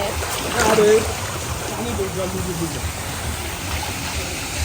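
Swimming pool water splashing near a waterfall with other swimmers around, a rushing churn with a louder splash early on, under overlapping talk.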